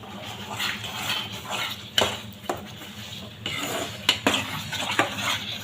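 A spoon scrapes and clinks against a pan while cashews and raisins are stirred into thick Ashoka halwa, with soft sizzling between irregular metallic knocks close by.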